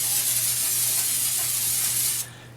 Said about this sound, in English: We're just going to give it a quick spray.